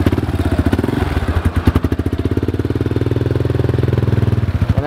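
A Raptor 250 quad's single-cylinder engine chugs close by in a steady, fast, even pulse as a young rider works the manual clutch, holding at a loud, throbbing idle.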